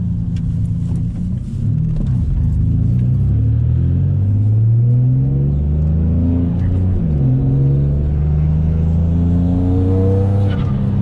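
A single-turbo Nissan G35, freshly street-tuned, is driven with its engine rumbling loudly from inside the cabin, revs climbing and falling through several gear changes in rising sweeps, with no talk.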